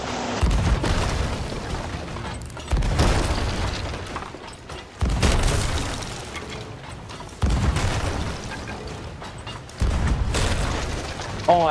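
Ship cannons fire in a Sea of Thieves sloop versus brigantine battle at a skeleton fort, five heavy booms at steady intervals, each followed by a rumbling roar, with faint voices underneath.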